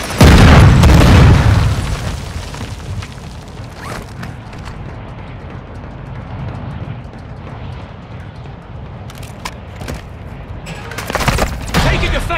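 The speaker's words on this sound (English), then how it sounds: "Taking effective fire." A loud boom opens a Call of Duty: Modern Warfare II battle-royale match, followed by a distant rumble of combat with scattered faint pops and a renewed burst of noise near the end, while voices occasionally speak.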